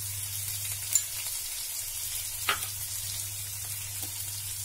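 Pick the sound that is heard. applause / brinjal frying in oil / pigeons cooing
brinjal frying in oil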